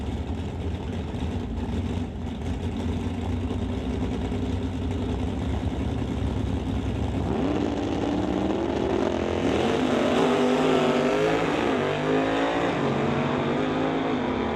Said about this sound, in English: Gordy Abigail in the BDL Automotive Chevy Nova will race Lynn Brooke, excuse me, in the 1967 Chevy Camaro